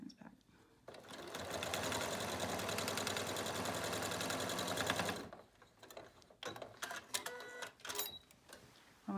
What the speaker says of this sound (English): I'm going to take it right over here to my sewing machine, run another 1/4 inch seam